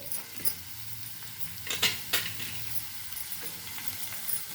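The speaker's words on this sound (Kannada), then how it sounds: "ಈರುಳ್ಳಿ ಮೆಣಸಿನ್ಕಾಯಿ ಹಾಕ್ತಾ ಇದ್ದೀನಿ ನೋಡಿ" Onion and green chilli frying in a pan for vegetable upma, a steady soft sizzle with a few brief stirring scrapes and clinks of a spoon against the pan, close and alone without talk.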